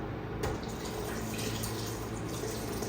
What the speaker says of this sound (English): You'll just add some water to this so that it's not too thick and creamy.